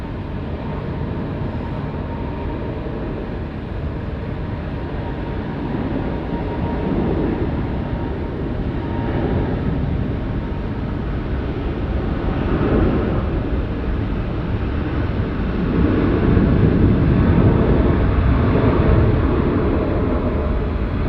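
A Delta jet airliner takes off from runway 16 right at Sydney Airport, its broad engine roar building steadily and swelling loudest near the end, continuous and heard from a distance with no talk.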